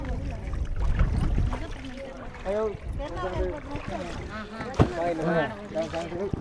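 A boat moves on the Krishna River with a low rumbling and water sloshing, while several people talk nearby throughout.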